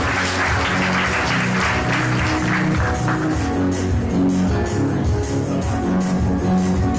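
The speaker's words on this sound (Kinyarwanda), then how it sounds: "Amashyi menshi kwa Yesu" Guests clap at a civil wedding ceremony, their applause rolling along over a steady background of low, sustained music throughout.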